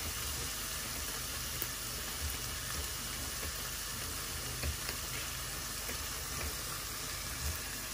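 Chopped onions sear in a hot pan for osso bucco, giving off a steady, dense sizzle that holds level the whole time with small crackles and stirring clicks, close up and without any voices.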